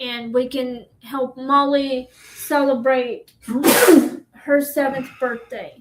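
A single sharp sneeze bursts out in the middle of a conversation, loud and close, with people talking before and after it.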